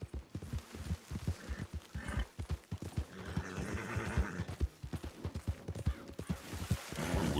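Horses in Red Dead Redemption 2 Online snort and whinny between the dull clip-clop of hooves, fairly faint and close, with a short burst of sharper sounds partway through.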